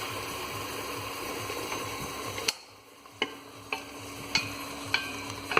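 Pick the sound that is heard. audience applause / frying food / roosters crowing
frying food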